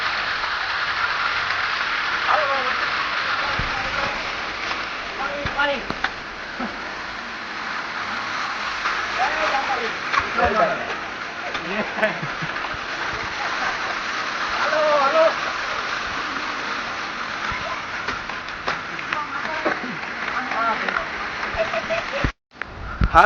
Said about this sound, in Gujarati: બધી જગ્યાએ આમથી પાણી પાણી વરસાદ છે